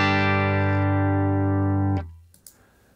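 Electric guitar played through the preamp section only of a UAFX Ruby '63 Top Boost amp pedal, one sustained chord ringing loud and clear for about two seconds before being cut off, followed by faint pick and string noise.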